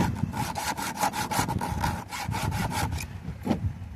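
A hand saw cuts through wood in steady back-and-forth strokes, about a dozen rasping passes close and clear, then a pause and one last stroke near the end.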